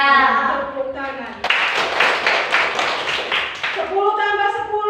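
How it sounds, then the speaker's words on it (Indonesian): Schoolchildren in a classroom burst into a loud, close round of rhythmic group clapping lasting about two and a half seconds, with the class chanting in unison before and after it. "Tepuk tangan."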